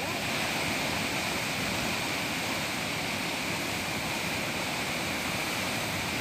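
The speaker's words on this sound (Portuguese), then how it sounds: "vejam só a quantidade de água que está descendo neste rio" Floodwater rushing down a river in Caetanos, Bahia, after heavy rains, a loud, constant roar of churning water that fills the scene without pause.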